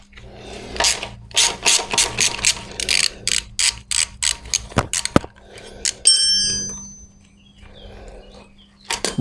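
Ratchet wrench loosening bolts on an engine being removed, a run of quick clicking ratchet bursts in separate strokes, close and loud, with a brief ringing metallic tone partway through.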